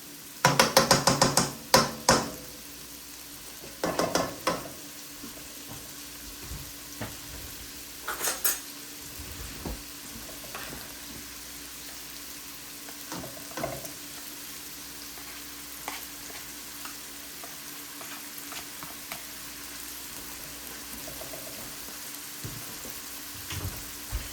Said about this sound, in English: Let that go for a little bit.